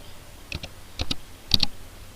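Short clusters of computer keyboard keystrokes, three quick pairs of crisp clicks spaced about half a second apart, close and fairly quiet against a soft background hiss.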